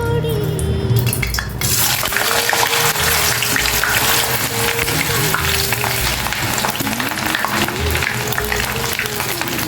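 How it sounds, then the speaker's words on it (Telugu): Potato pieces fry in hot oil in a kadai, a loud continuous sizzle that erupts after a short quieter start and crackles steadily to the end. "మనం ఈ ఆలు ముక్కల్ని ఇందులో వేసేసుకుందాం."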